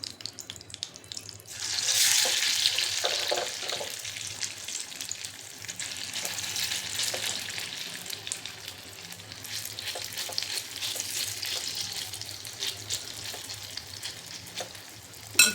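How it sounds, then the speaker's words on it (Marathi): Fasting dosa batter poured into a hot oiled appe pan, breaking into a steady, loud sizzle close by that holds on without talk, ending with a brief clink. "आणि आपण बॅटर बनवून घेतलेले ते टाकायचे इथं"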